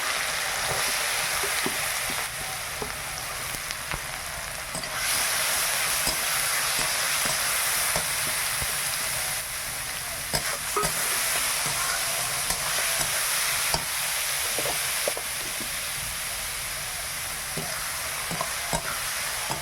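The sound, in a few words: whole cumin, chili and bay leaf frying in oil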